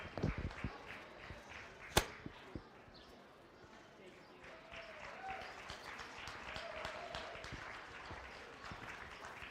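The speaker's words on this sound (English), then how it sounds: "give them a great big round of applause" Applause ripples through a crowd at a county goat show, a scattered patter of clapping with one sharp louder clap near the start, while someone talks over it.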